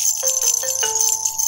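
A toy rattle filled with rice and urad grains shaken in short bursts, about four rhythmic jingling shakes close up over a bright tonal cartoon backdrop.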